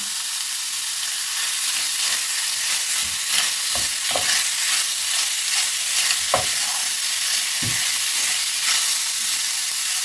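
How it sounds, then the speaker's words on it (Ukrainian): Pork brisket frying in its own fat with no added oil, browning to a golden crust at a wedding-feast recipe: a steady, loud close sizzle and hiss with a few sharp pops and spatters scattered throughout. "Все добре обсмажую до золотистої скоринки спочатку."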